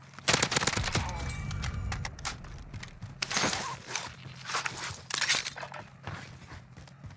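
Gunfire in Call of Duty at Verdansk: rapid automatic bursts and scattered single shots, loud and sharp at first, then thinner volleys with pauses between them, and a voice briefly heard in the mix.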